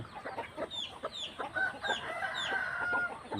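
Backyard chickens cluck in quick, uneven bursts close by, with a rooster's crow rising partway through and several birds overlapping.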